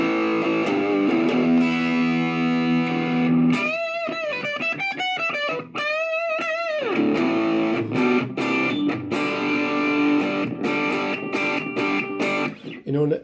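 Heavily distorted electric guitar through a Boss DS-1W distortion pedal at max gain, thick sustained chords with a burst of fast palm-muted riffing in the middle, loud and close.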